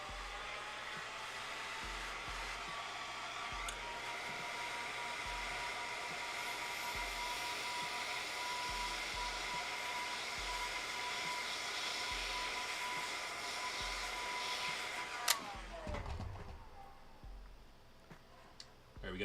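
A heat gun blows a steady, loud whooshing roar as it shrinks glued heat shrink tubing onto a portable headphone cable, with faint periodic ticks underneath. The roar cuts off near the end.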